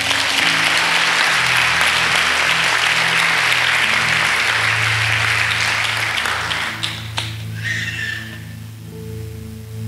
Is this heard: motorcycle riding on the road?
no